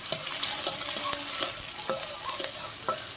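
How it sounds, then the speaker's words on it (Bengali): Chopped onions frying in oil over garlic, a steady close sizzle with a few light spatula clicks and scrapes, fairly quiet with no talking. "তারপর রসুনের ওপর দিয়ে দিলাম পেঁয়াজ কুচিগুলো।"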